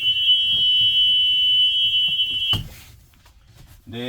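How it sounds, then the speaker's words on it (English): A school bus emergency exit buzzer sounds as a steady, piercing high electronic tone, held continuously for about two and a half seconds before cutting off, with faint movement noise and a brief voice at the end. "I can hear a buzzer"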